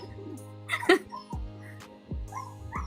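A small dog gives several quick, sharp yips and barks in a room, close by and fairly quiet, with a voice briefly audible alongside.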